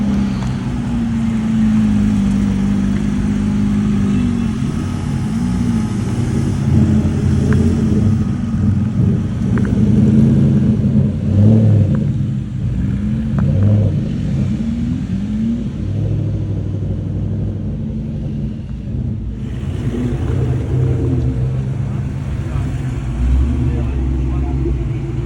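Car engines rumble in a busy parking lot at the Caffeine and Carburetors car show in New Canaan, Connecticut, a steady low drone with occasional revs, mostly under ongoing nearby talk.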